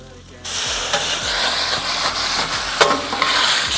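Food frying on a Napoleon stainless steel griddle on a patio, a steady loud sizzle and hiss that starts suddenly and carries on with a few scraping bumps, while someone talks over it.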